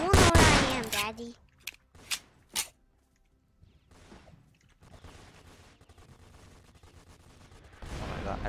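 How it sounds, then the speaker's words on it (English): Gunfire and rocket explosions in Roblox Fortnite: a loud burst opens, followed by several sharp separate shots and then a rumbling stretch of blasts. There is talk during the clip. "Who's exploding rockets?"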